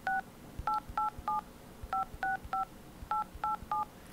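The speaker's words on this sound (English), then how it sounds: "if I just recorded me putting in people's numbers for the whole day" Telephone keypad dialing tones, eleven short dual-pitch beeps pressed in three quick groups, clear and close against faint background noise.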